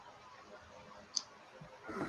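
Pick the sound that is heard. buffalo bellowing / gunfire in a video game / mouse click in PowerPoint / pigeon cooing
mouse click in PowerPoint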